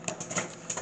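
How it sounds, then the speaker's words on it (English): Microwave popcorn popping inside a running microwave oven, a few sharp irregular pops over a steady hum, close and moderately loud with no talking. "The popcorn is actually popping though"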